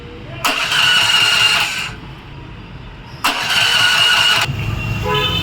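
A Honda petrol pumpset engine cranks on its electric self-starter twice, each loud whirring burst lasting over a second, with the engine running and idling between and after the attempts, close by.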